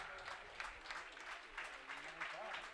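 Steady applause from a distant football crowd for a substituted player leaving the pitch, faint and continuous, with a commentator talking over it.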